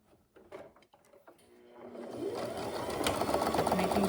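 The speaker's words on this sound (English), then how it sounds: "And then we're going to sew straight across that." A sewing machine starts up and stitches steadily across the lining and interfacing of a zippered pouch, its motor whirring louder and faster after a few quiet clicks, close by with no talk.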